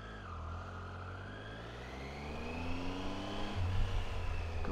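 A Triumph Tiger 800 XRX motorcycle pulling away, engine note rising steadily through the revs with a low rumble underneath and a slight surge near the end, fairly faint and without talk.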